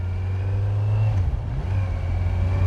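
A Kawasaki Z900 motorcycle runs steadily while being ridden, its engine a continuous low drone with a brief dip and surge in the middle, loud and close throughout with no talking.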